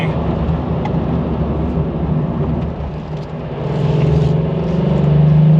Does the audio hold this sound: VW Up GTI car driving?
yes